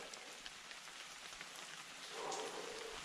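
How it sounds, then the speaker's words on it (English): Rain starts again on a mountain hike among giant rocks, a soft continuous patter of drops hissing evenly around the listener, fairly faint and steady with no talking. "Started raining again."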